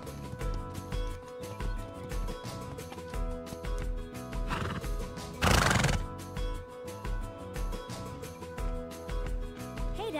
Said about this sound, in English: Giddy up, Spirit!